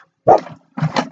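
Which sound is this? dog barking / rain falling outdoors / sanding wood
dog barking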